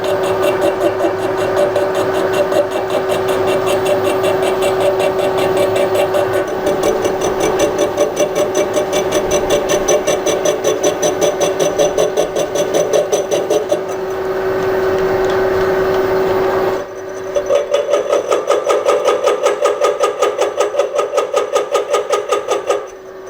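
A metal cutting tool chattering while a boring head machines the inner hole of a Jaguar XJ40 rear shock top mount on a lathe, a steady loud tonal whine with rapid rhythmic rattle, briefly changing pitch before resuming.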